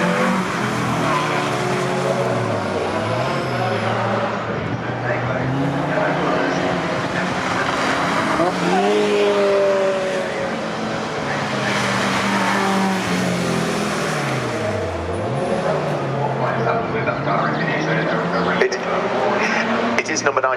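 A Mazda race car at Cadwell Park during trackday qualifying, engine droning and revving with shifting pitch throughout, heard under continuous commentary.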